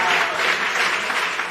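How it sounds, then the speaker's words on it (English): A studio audience at a TV talent show claps for a contestant, a short burst of dense, even applause from a crowd. "A round of applause for Augustine."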